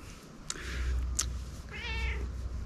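A cat meows a few times beside someone working on a new boat table, short calls with a drawn-out meow near the end, fairly close over a low background hum.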